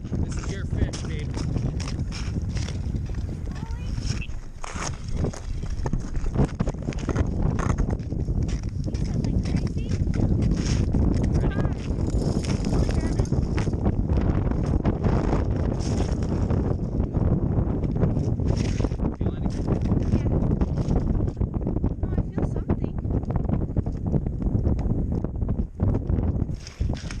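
Strong wind blows across a frozen lake during ice fishing, a constant loud roar and buffeting against the microphone, with voices talking underneath.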